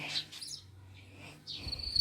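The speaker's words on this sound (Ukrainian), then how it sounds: "А цвіркуни як кричать. Цвірчать." Crickets chirping faintly in a quiet outdoor setting, a thin steady trill rising near the end.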